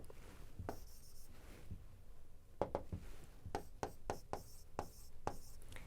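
A pen writes by hand on paper while a math answer is rewritten, making quiet, close scratchy strokes in short irregular bursts and taps, with no voice.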